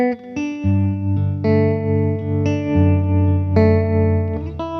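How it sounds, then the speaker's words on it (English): A sustained guitar chord progression with a gentle, shimmering reverb tail, added as a subtle mix effect, blooming behind each strum, played alone. "add a subtle reverb on top to bring out some shimmer"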